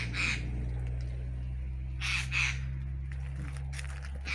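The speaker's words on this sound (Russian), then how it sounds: "Что там за птичка такая кричит?" A crow caws loudly in a southern garden, a few harsh separate calls with pauses between them over a low steady hum in the background.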